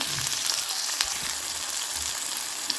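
Eggplant fries in hot oil with a steady, close, hissing sizzle and faint crackles throughout, and no talking.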